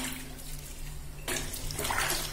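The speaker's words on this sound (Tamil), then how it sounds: "அதில் இந்த புதினா இலைகளை போட்டு நல்லா வந்து பிசைஞ்சு விட்டுருங்க." Fresh mint leaves being squeezed and kneaded by hand in a half-filled bucket of water, a continuous close sloshing and swirling that grows busier partway through, with no voices.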